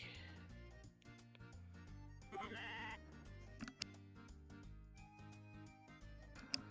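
A sheep bleats several times in the farming video game Story of Seasons: A Wonderful Life. The cries are faint and sit over a soft looping game melody, with no talking.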